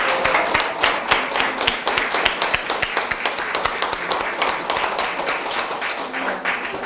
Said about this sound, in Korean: 강의를 해주신 이담선 배우님께 다시 한번 큰 박수를 보내드립니다